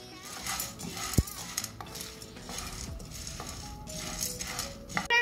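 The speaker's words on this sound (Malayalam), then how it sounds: "ഇനി നമ്മൾക്കൊന്ന് നന്നായിട്ട് ഇളക്കി കൊടുക്കാം" Roasted gram (pottukadalai) being stirred in a hot pan for laddu, a steady scraping and rattling of utensil against metal with dry grains shifting, close and continuous with occasional sharper clinks.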